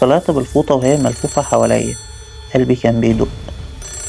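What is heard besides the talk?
landline telephone ringing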